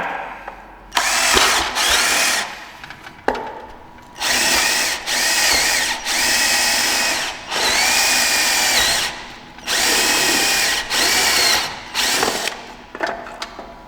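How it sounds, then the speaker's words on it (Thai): A power drill with a conical step drill bit bores holes, running in a series of loud, sustained whirring bursts separated by short pauses, about six runs with no talking. "ผมสามารถเจาะ รูนะครับ ผมสามารถสร้างรูนะครับสี่รูนะ ในดอกดอกเดียวได้นะครับ"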